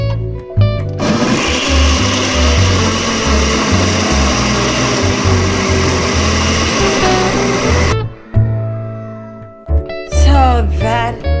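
A kitchen blender whirs loudly and continuously while blending onion, pepper, stock cubes and ginger into a thick mix for Ghanaian shito, then cuts off, followed by brief clunks and handling noises.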